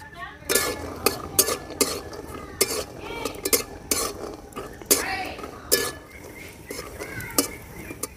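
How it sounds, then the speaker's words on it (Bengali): Peanuts stirred and frying in fresh mustard oil in a pan, with repeated sharp utensil scrapes and clinks against the metal over a steady low sizzle, close and fairly loud throughout. "এবারে আমি টাটকা সর্ষের তেল দিয়ে ভেজে নেব"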